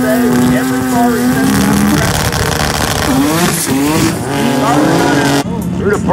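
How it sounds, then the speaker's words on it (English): An 81 Starlet race car with a 13B rotary engine does a burnout across the start line at a drag strip, its screaming engine loud and sustained with squealing tires, under a commentator's voice. "Through the burnout across the start line."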